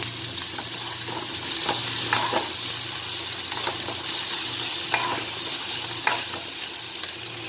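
Garlic sizzles steadily in hot oil in a pan for chicken biryani, with repeated scraping clicks as a spoon stirs it, a continuous close frying hiss and no talking.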